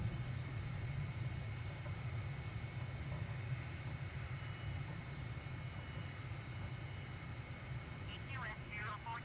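Airliner in a flight simulator game touching down, a steady loud engine drone that fills the clip without pause, with a voice speaking briefly over it.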